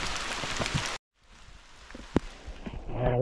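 Rain falls over rustic stone ruins with carved steps: a dense, loud hiss for about a second, a sudden cut to near silence, then a softer, steady patter that builds again, with a brief tonal sound at the end.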